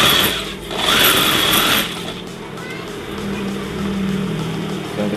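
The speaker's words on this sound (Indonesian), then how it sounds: "Sekarang langsung kita jahit." A sewing machine stitches an elastic skirt waistband, its rapid mechanical whir running close up in short bursts of a second or so, interrupted by pauses and some handling noise.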